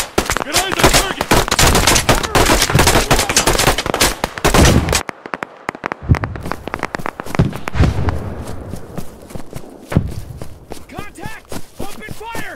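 Automatic gunfire and shots in the PMC military shooter game, dense rapid bursts at close range, a brief lull, then more scattered shots, with shouted voices over the firefight.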